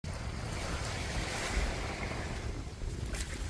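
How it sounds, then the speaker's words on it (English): Surf washing onto Hyams Beach in Jervis Bay, Australia, heard as a steady, full rush of breaking waves mixed with wind buffeting the microphone, with no talking. "We're walking along Australia's best beach, world-class Hyams Beach, guys, in Jervis Bay."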